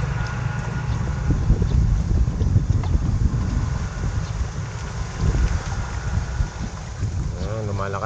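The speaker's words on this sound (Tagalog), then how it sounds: "Lumalakas ng hangin, kamatabi na sila." Strong wind blusters across a free fishing spot for tarpon, a dense, steady roar buffeting the microphone throughout with slight surges.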